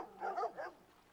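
A dog gives a short, faint vocal yelp or bark, a brief whining note heard from some distance.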